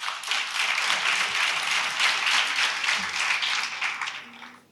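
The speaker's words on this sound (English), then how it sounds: "So please, can you give yourself a round of applause?" Audience at a 2024 youth summit gives a round of applause: dense, steady clapping from many hands fills the room for nearly five seconds, then thins out near the end.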